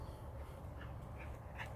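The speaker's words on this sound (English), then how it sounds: "The ducks are in the pond" A few soft duck quacks from ducks on a farm pond sound at a distance over a steady low outdoor rumble, spaced out with pauses between them.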